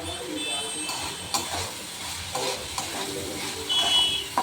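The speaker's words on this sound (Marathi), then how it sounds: "मस्त कांदा गुलाबीसर झालेला आहे आता त्याच्यात एक चमचा हळद आणि दीड चमचा तिखट टाकलेला आहे" Golden-pink onion frying with a spoon of turmeric and chili powder, being stirred in a pan: continuous sizzle with a few scraping stir strokes spaced across the clip, close by.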